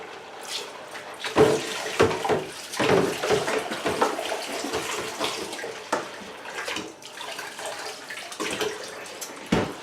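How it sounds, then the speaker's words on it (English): Running water splashes and sloshes continuously, with irregular swishes and bursts as glasses are washed in hot soapy water in a filled sink close by. "Once you've got your hot soapy water, the things that I wash first are usually things like glasses"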